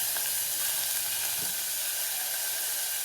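Carrots, onions and green chillies sizzle in a little hot oil in a pan, a steady close frying hiss that holds throughout without pause.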